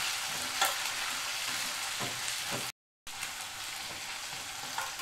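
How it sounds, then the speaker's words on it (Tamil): Green chillies and tomatoes sauté in a pan for a Chennai-style kara kulambu, giving a steady close sizzle with a few soft stirring scrapes. The sizzle drops out for a moment midway, then resumes. "இதையும் நல்லா வதக்கிடலாம்."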